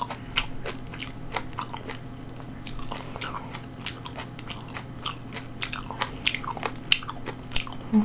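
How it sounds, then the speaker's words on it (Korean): Fermented skate eaten together with kimchi, with close, wet crunching bites and steady chewing repeated throughout, no talking. "홍어랑 김치랑 한번 먹어볼게요."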